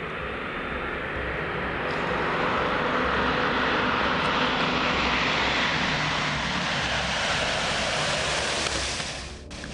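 A small plane flies over a weekend party in Sinaloa, Mexico, moments before crashing. Its engine makes a loud, steady, close broadband roar that holds for nearly ten seconds and then drops away abruptly at the end, with no voices.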